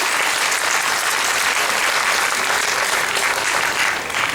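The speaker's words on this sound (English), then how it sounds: "can we have a big round of applause for Dame Harriet Walton and her husband Guy Pelly" A large audience at the Maggie's Culture Crawl charity evening breaks into a big round of applause. The clapping is dense and loud, a continuous roar of hands that holds steady for the whole stretch and eases only slightly at the end.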